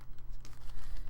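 Brief, faint crinkling of paper being folded up along the side of a junk journal page, close by and with no voice.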